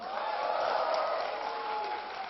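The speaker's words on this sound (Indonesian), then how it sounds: "Tepuk tangan buat saudara semua" Applause from an audience at the C-Day Jakarta gathering, a broad muffled wash of clapping and crowd noise, moderately loud and continuous for about two seconds.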